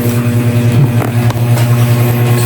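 Motorcycle engine idling steadily at close range before dawn on a cold, foggy mountain road in Baybay City, Leyte, with a constant low drone and no voices.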